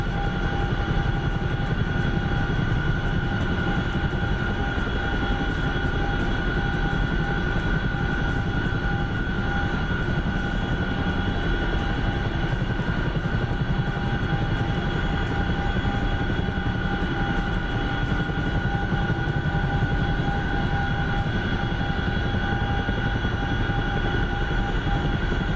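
A Chinook helicopter in a war video game drones with a loud, continuous rotor and engine roar, steady and close throughout with tonal whine layered on top.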